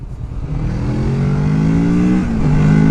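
A Kawasaki motorcycle, its restrictor removed, accelerates nearby on an open road, the engine note climbing steadily in pitch, dropping briefly at a gear change, then rising again, loud and alone.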